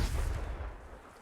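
A Confringo spell blast in Hogwarts Legacy, one short explosive burst with a booming low rumble that quickly fades.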